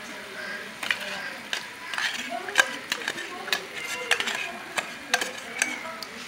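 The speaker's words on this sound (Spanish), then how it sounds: "Y vamos a revolver. Vamos a revolver para así poder agregar nuestros espaguetis." A spoon scraping and clacking in a pan as tuna is stirred into sautéed vegetables, with irregular sharp knocks and a soft sizzle underneath, close and moderately loud.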